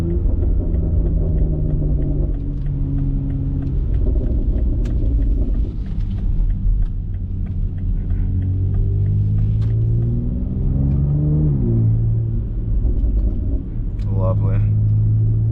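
A BMW X3M fitted with a loud aftermarket exhaust rumbles close by, its deep engine note rising and falling through gear changes with a steady, heavy drone throughout.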